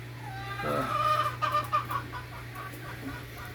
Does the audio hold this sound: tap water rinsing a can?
no